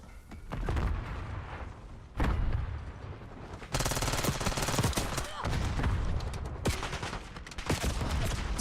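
Dense video game gunfire fills the scene with sustained automatic bursts and heavy booms, loud and continuous with brief gaps, while a voice occasionally calls out underneath.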